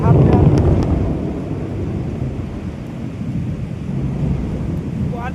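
Thunder from lightning outside a plywood factory during heavy rain, a loud rolling rumble that starts strong and keeps grumbling at a distance, with rain and wind buffeting the microphone.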